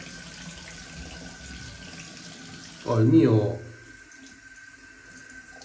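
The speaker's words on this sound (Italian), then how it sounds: "l'acqua calda." Hot water from a tap splashes into a sink for about a second, loud and close, after a stretch of quiet room tone; someone speaks briefly before it.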